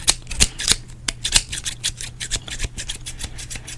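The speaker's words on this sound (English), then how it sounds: "You know I've always loved the sounds of scissors, right?" Sharp barber scissors snip hair in a quick, uneven run of close, crisp metallic cuts with brief pauses, heard alone with no talking, like a gentle haircut.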